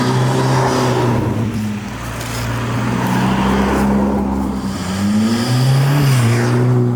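Ferrari Roma engine revving hard on the road, a loud, close, continuous roar that rises and falls through quick gear changes, with no talking.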